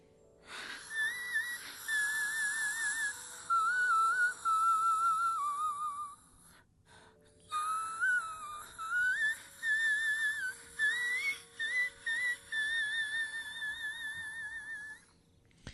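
Mariah Carey's isolated vocal from 'Fourth of July': a very high, thin voice in whistle register, sustained and trilling in long phrases with a brief pause midway, no other sounds.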